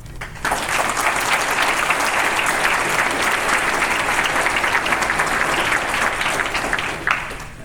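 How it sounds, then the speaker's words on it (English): An audience at a martial arts academy's 20th anniversary event applauds steadily, a dense, loud wash of clapping that holds for several seconds before tapering off, with no speech over it. "I would like to give them another round of applause"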